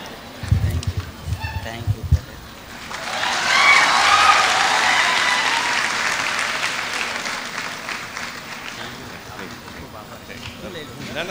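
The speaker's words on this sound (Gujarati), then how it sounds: "એકવાર જોરદાર તાળીઓ પાડો અશોક ગુજર માટે" An audience at a youth motivation seminar in Bhavnagar breaks into loud applause that swells after a few sharp claps, holds, then tapers off gradually, with voices audible at the start.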